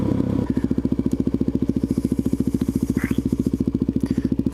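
Supermoto motorcycle riding into a snowy gun range, its engine chugging in a steady, rapid thumping rhythm close to the microphone, loud and continuous with no talking.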